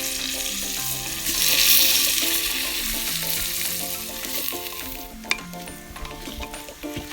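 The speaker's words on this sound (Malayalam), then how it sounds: "ഇതാ അരി ഇട്ട് കൊടുക്കുകയാണ്. അരി ഒന്ന് ചൂടാക്കണം, നമുക്ക് ചെറുതായിട്ടൊന്ന് വറുത്തെടുക്കണം." Rice for biryani roasts in a clay pot over a fire, making a loud, continuous close sizzle with stirring scrapes, while faint tonal music plays in the background.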